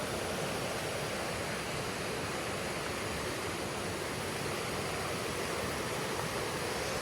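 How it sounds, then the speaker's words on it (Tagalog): A river at a campsite in Real, Quezon rushes steadily, a continuous broadband wash of flowing water with no pauses and no voices. "Ito yung ilog."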